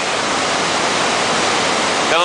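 River water rushes and splashes steadily and loudly during a deep mountaineering river crossing in Alaska. A constant close roar fills the clip with no speech.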